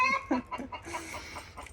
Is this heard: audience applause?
no